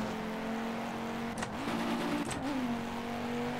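A race car engine from the racing game Project Cars drones at a steady high pitch, with two brief gear-shift dips and rises, loud and continuous with no talk.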